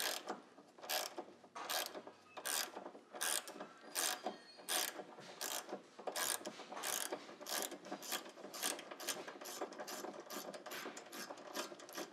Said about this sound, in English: hold it still while we take the nut loose